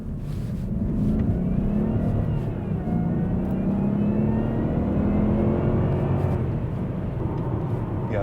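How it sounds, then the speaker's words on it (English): Supercharged V8 of a Jaguar XJ Super V8 (X350) saloon pulling away hard in sport mode, a steady broadband engine roar with a rising supercharger whine building over several seconds, fairly close and continuous. "we'll just do a getaway here in sport mode and see how it sounds."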